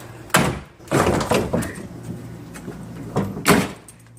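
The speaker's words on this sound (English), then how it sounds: "I can get the Wonder Bar in there and see how that pries out" A Wonder Bar pry bar prying wood trim off a pocket door frame, with sharp cracks, creaks and thumps in several bursts, close and fairly loud, with no voices.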